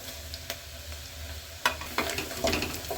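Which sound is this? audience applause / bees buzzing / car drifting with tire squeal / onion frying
onion frying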